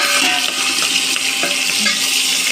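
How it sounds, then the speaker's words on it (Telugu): Masala pulao with freshly added coriander leaves frying and being stirred in a pot makes a close, continuous sizzle with soft scraping and bubbling, no voices. "ఇప్పుడు కొత్తిమీర వేసేద్దాము. వేసి కొద్దిగా ఫ్రై అయ్యాక"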